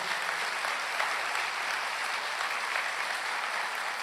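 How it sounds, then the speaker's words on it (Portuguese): Church congregation applauding after a sermon call to praise, a steady dense wash of clapping throughout, fairly distant and even with no voices over it. "Dê uma salva de palmas para Jesus."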